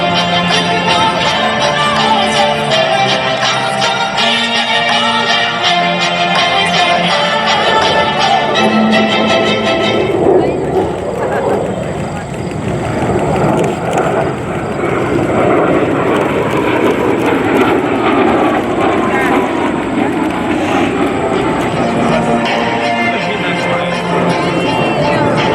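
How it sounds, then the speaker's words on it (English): A Boeing F/A-18F Super Hornet jet makes an inverted low pass at an air show, its engine roar loud and continuous throughout, with an announcer's voice heard over it. "Ladies and gentlemen, from the left, the Super Hornet inverted whisper pass."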